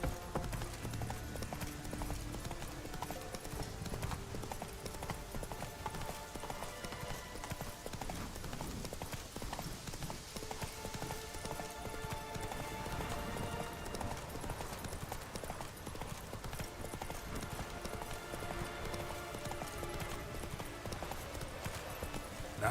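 Roach the horse galloping in The Witcher 3, a fast continuous clip-clop of hooves running under game music and ambient sound, with a brief whinny.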